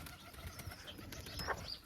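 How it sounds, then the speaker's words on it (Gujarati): Pigeons in a coop, with soft cooing and faint fluttering against a steady background hum, ending in a brief louder call. "કબૂતર જો અહીંયા છે જોઈ લો"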